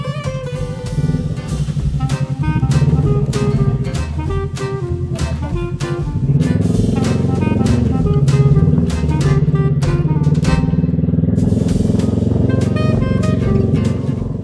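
The engine of a big motorcycle rumbles steadily at close range as it boards a RoRo ferry from Batangas to Calapan, its tone shifting midway, with metallic clanks and other vehicle noise around it.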